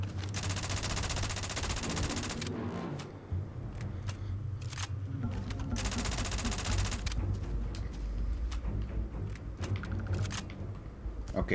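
AK rifle firing in the video game Starfield, bursts of rapid automatic gunfire in loud repeated volleys with short pauses between.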